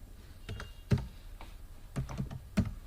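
Keys tapped on a computer keyboard in an irregular run of soft, separate clicks, close by and quiet, with no voices.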